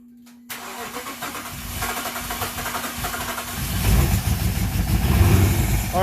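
A 2014 Dodge Charger 5.7L V8 with a dead cylinder cranks and fires, then settles into a rough, uneven idle that grows louder and lumpier, close to the engine bay.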